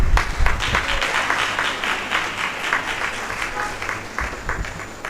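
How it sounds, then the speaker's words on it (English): Sustained audience applause at a university inaugural lecture: a dense, steady crowd of hands clapping loudly throughout, fairly close, with a brief louder burst at the start. "Can we sustain the applause?"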